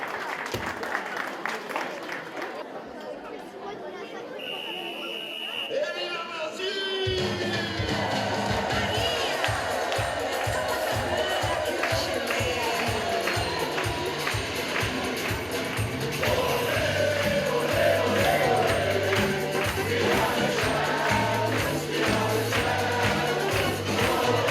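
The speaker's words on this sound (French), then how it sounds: "On peut les applaudir bien fort." At a school fancy fair in Belgium, a crowd breaks into sustained applause and cheering after a short stretch of talk, the clapping building loud and continuous, with shouts mixed in.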